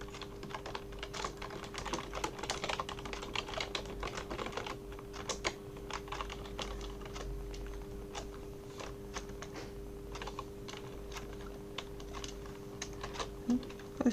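Steady typing on a computer keyboard while text is written in Word, with a continuous run of close, crisp key clicks and occasional louder strokes over a low electrical hum.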